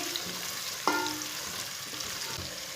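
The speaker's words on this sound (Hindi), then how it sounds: "एक कटा हुआ प्याज, प्याज को हल्का सा ब्राउन कर लेंगे" Chopped onion sizzles steadily while browning over medium heat in a pan for a beef gosht curry, with one sharp clank of a utensil near the start.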